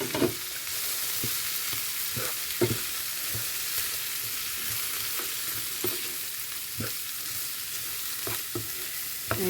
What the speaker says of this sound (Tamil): இப்போ உறைஞ்சி வச்சிருக்கிற அந்த பூக்கோவாவை போட்டிருக்கிறேன்